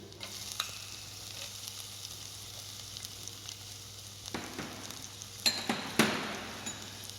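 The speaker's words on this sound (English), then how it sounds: "Now add chopped onions." Chopped onions sauté in a pan with a soft steady sizzle, accompanied by light stirring and a few clinks of a utensil against the pan, growing slightly louder toward the end.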